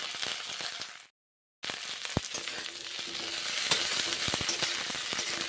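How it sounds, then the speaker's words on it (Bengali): Cauliflower pieces fry in a pan with a steady, crackling hiss, briefly cut off by a short silence before the sizzle resumes with scattered pops and scrapes. "ফুলকপি ভেজে নিচ্ছি"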